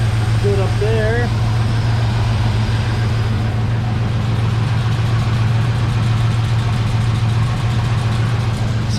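A 1970 Chevrolet C10 pickup's engine idling steadily after a tune-up, loud and close, with a brief voice near the start.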